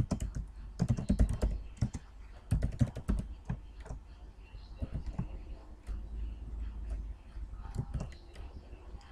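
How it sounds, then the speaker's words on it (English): Code typed on a computer keyboard, rapid bursts of close key clicks with short pauses between flurries, then lighter scattered taps toward the end. "let me quickly type in this code"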